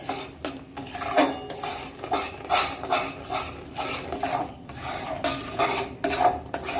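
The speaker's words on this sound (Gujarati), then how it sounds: "આ રીતના આપણે એને હલાયા કરવાનું છે જેથી ગોળ બળી ના જાય" Jaggery is stirred in a pan over medium heat, a metal spoon scraping and rasping against the pan in repeated close strokes with a rough, uneven rhythm and no voices.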